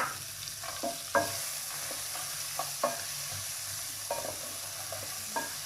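Chopped onion sautés in a hot pan with spiced oil for Punjabi-style kadhi pakora, a soft steady sizzle broken by several sharp scrapes and taps of a spoon stirring, close and without talk.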